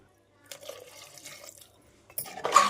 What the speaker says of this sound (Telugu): కారం, మసాలా, నూనె వేసుకొని ఒక గ్లాస్ వాటర్ వేసుకుందాం